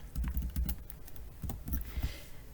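Rapid keystrokes on a computer keyboard as a number is typed, with uneven bursts of clicks close up and no voices.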